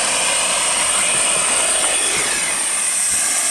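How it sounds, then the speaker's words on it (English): A Venturi valve running in the vent spout of an IBC tote liner: a loud, steady, high-pitched hiss of rushing air that holds unchanged from start to finish. "While the Venturi valve is still running"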